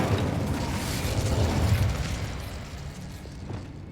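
An Incendio fire spell cast in Hogwarts Legacy, heard as a dense, roaring burst of flame with a low rumble that swells over the first two seconds, then slowly thins into a softer hiss.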